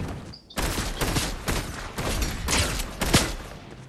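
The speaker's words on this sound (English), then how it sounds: "Oh, he's shooting?" Rapid gunfire in a Fortnite squads fight, a burst of repeated shots crackling steadily for several seconds at fairly close range, with one sharper report near the end.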